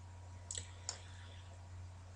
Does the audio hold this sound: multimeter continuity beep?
no